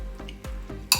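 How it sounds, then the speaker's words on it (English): Onions sizzle in a hot pan while a utensil stirs them, with soft scraping and a few sharp clinks against the pan over about a second. "So to start off, make sure your pan is hot. So I've gone ahead and I've added in the onions."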